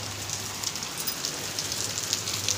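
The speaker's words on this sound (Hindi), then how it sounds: "बारिश आ रही है" Steady rain falling on a rainy morning in a village, a continuous dense patter with scattered closer drops, fairly loud and even throughout with no voices.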